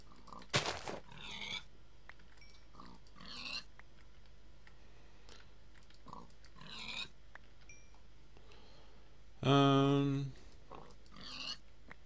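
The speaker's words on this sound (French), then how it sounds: "il y a encore plein de cochons ici." Pigs grunting in the Minecraft video game during a TaupeGun survival match: several short grunts scattered across the stretch, one louder drawn-out squeal near the end, with people talking throughout.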